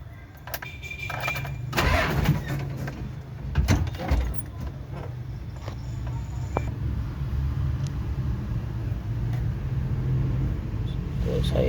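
A Mitsubishi 4D56 diesel engine with a weak starter cranks sluggishly, its low, uneven churning running steadily through the clip with a few brief louder bursts near the start and faint clatter around it.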